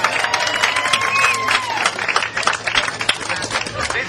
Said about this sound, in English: They need a round of applause for just coming out and showing today.